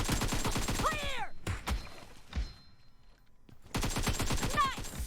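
Rapid automatic gunfire from PUBG Mobile team deathmatch rattles in dense bursts at the start and end, with a quieter stretch of scattered thuds between them.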